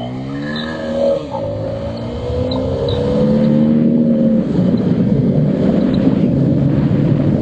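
A 2024 Bajaj Pulsar N250 motorcycle launches hard in first gear on an open road for a 0-100 run, its engine note climbing steadily and growing louder as it accelerates, with no talk over it.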